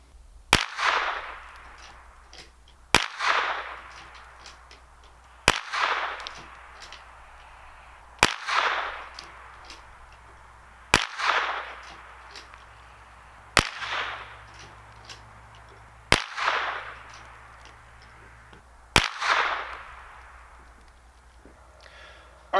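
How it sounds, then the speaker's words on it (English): Henry Golden Boy lever-action .22 rifle firing .22 short rounds: eight sharp, evenly spaced cracks about every two and a half seconds, each followed by a brief fading echo, with quiet handling sounds between shots. "I'm going to take some shots at the center target, again, with the other 8 22 shorts I got in there."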